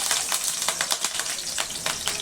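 Curry leaves go into hot oil in a pan and sizzle and crackle, with sharp irregular pops over a steady hiss, close and fairly loud.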